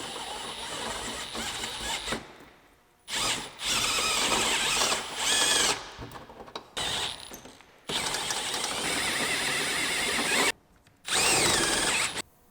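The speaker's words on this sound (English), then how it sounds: "I'm going to take this out and then move back in with my step bit here" A power drill with a step bit enlarges holes in the metal body of a Ford Transit high-roof extended van, in several loud, close whirring and grinding bursts separated by short pauses.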